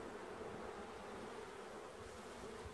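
Honey bees buzzing steadily during a hive inspection, a dense, continuous hum from many insects close to the microphone, even and unbroken throughout with no talking.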